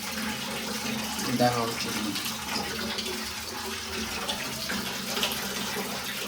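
Water runs from the tap of a geyser under repair: a steady, fairly soft rushing stream that continues throughout, with a brief spoken phrase near the start.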